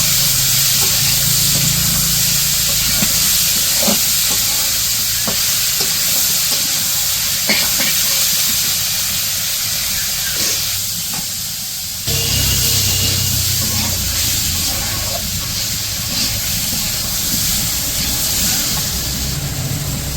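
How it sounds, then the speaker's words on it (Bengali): Potato and eggplant fry with onion and green chili in a village kitchen pan, a loud continuous sizzle and hiss with occasional stirring scrapes and a brief dip before the frying noise returns. "ওই আলু আর বেগুনের উপরে আর কি পেঁয়াজ কাঁচামরিচ দিয়ে দিল, মানে প্রথমে একটু ভাজা ভাজা করে নিল"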